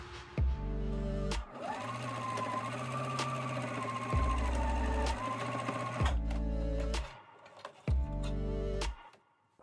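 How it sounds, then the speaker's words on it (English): A sewing machine stitches a straight seam on a camper cushion cover, running in loud, close bursts: a short start, a long steady run with a rising whine, then two more brief runs with pauses between. "you're just gonna sew along the straight line"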